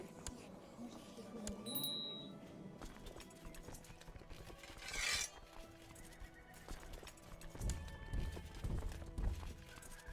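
Horses gallop with steady clip-clop hoofbeats and an occasional neigh in the medieval strategy video game Crusader Kings 2, set against a busy game soundtrack with clinking metal.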